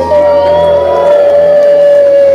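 Crowd ululating loudly in celebration, a sustained high trilling cry held steady for the whole stretch over a mass of cheering voices.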